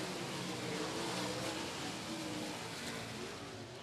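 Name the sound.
race cars racing at Golden Triangle Raceway Park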